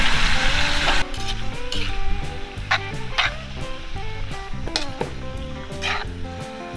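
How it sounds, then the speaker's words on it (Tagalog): Sliced tumbong (beef rectum) frying and being stirred in a pan with other ingredients for a Thai spicy tumbong dish, a steady loud sizzle broken by repeated sharp scrapes and clacks of the stirring utensil, with music playing underneath. "ilagay na rin natin yung tumbong na nagayat. Ihalo na lang natin para mag-mix yung mga ingredients."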